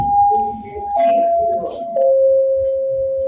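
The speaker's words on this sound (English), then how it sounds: "I'm gonna hit the chimes" Three descending chime notes are struck one after another, each ringing clearly for about a second, loud over a low murmur of background sound at the close of a podcast episode.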